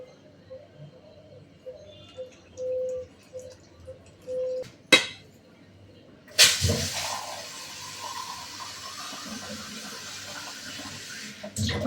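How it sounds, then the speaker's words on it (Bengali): A little milk poured into a pot in a home kitchen, heard as a steady liquid pour lasting several seconds after a sharp clink, following quieter kitchen clatter. "এবার অল্প একটু দুধ দিব।"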